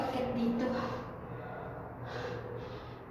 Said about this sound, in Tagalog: Hinihingal ako sa pag-akit dito.